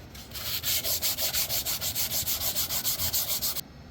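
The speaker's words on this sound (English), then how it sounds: "So I'm just going to do a light sanding on this." Rhythmic back-and-forth light sanding on wood coated with colored epoxy resin, about twenty quick even strokes, close and clear, then it stops abruptly.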